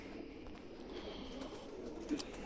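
Pigeon coos, soft and low, from a breeder's loft of fancy pigeons, repeating steadily in the background over a faint ambient hum, with no talking.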